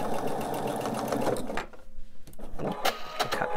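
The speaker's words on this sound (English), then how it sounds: "I'm sewing everything together." A sewing machine stitches fabric with a fast, steady mechanical whir, pausing briefly midway and then resuming in short bursts, close up.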